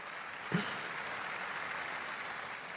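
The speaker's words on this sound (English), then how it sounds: "we've probably had enough clapping" Steady, dense applause fills a legislative chamber during the State of the Union address, a continuous even wash of clapping with one brief louder hand clap near the start.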